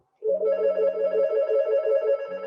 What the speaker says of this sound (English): Two more rings and it will stop.